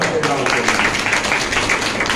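Loud applause breaks out in a church congregation during a Sunday service, a brief dense burst of clapping from many hands, close and energetic, with voices mixed in.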